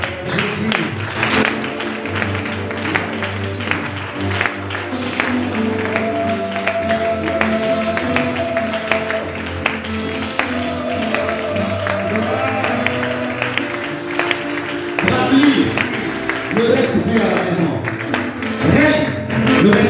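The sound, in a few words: congregation acclaiming and applauding in church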